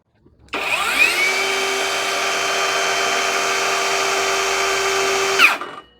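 A cordless circular saw, battery powered, spins up and runs with no load, a loud steady high-pitched whine holding level for about five seconds before winding down, with no talk.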